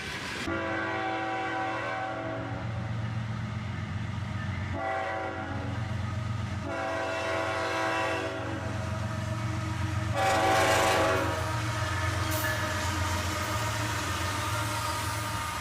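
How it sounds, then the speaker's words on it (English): A freight train hauling tank cars sounds its horn in a salute, long sustained blasts repeating several times over a steady low rumble of rolling cars, with the horn swelling louder near the end. "we get a little horn salute there from the engineer of this tank train"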